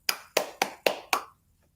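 Five crisp hand claps land in an even rhythm, close and clear, each with a brief ring, followed by a moment of quiet.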